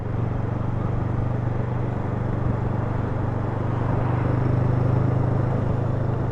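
A motorcycle engine and exhaust rumble steadily at close range, holding a constant low drone that swells slightly toward the end, with no other sound on top.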